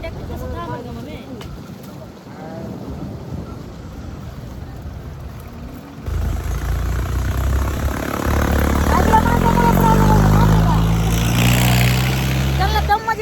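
A loaded tractor's engine runs on a road, a steady low rumble that swells louder and closer partway through, with people talking over it.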